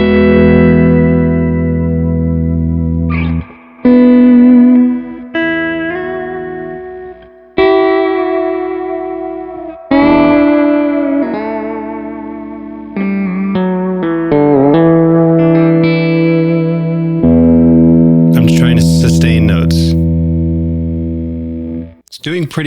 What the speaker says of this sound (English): I'm going to use the spring reverb on my amp